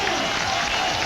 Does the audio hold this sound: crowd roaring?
yes